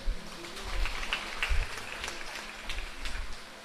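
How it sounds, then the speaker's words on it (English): Applause at a school alumni association reunion gathering, scattered, fairly soft clapping from a crowd heard at a distance, with low rumbling handling noise underneath. "that deserves a round of applause"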